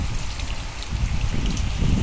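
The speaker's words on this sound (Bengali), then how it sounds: "বাট এইদিকে এখনও বৃষ্টি পড়ছে" Steady rain falls during a downpour outdoors, a dense continuous hiss of drops with no pauses, loud and close.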